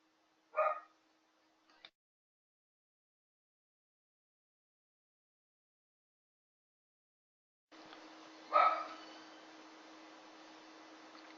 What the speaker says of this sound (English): I don't know what's going on with the dog.